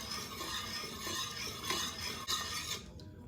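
Homemade strawberry lemonade with pure strawberry extract is stirred in a container, a steady close rubbing swirl that stops abruptly just before the end.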